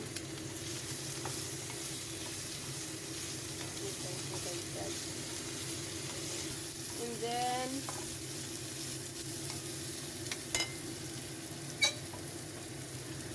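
Bitter gourd (ampalaya) sautéing in a pan, a continuous soft sizzle with occasional spatula scrapes and a couple of sharp taps, fairly quiet throughout.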